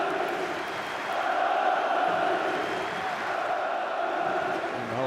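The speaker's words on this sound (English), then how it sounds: "the whole crowd are chanting Stanic" Handball arena crowd at a Serbia versus Sweden European Championship match chanting a player's name, a loud, sustained roar of massed voices rising and falling steadily throughout.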